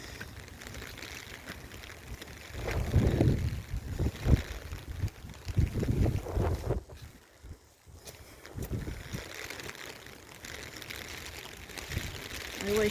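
Strong gusts of wind batter the microphone outdoors in icy cold rain, a loud rumbling roar that swells and eases in waves, with a brief lull midway.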